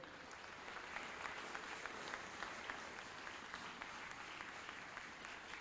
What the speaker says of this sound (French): nous allons acclamer pour la gloire de Dieu